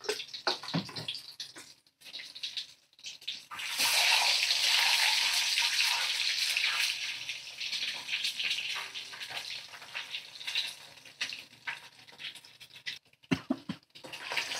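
Boiled eggs fry in hot oil with turmeric and salt over a medium flame, giving a loud, steady sizzle that bursts in and runs for several seconds before easing back among softer stirring clatter, with no talking.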